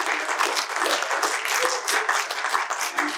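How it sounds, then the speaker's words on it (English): A big round of applause for a panelist at a filmmakers' panel at a comic convention, dense continuous clapping from a crowd, loud and sustained with a faint voice underneath. "Let's give David a big round of applause."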